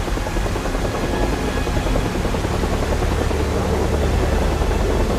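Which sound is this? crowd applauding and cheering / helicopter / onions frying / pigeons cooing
helicopter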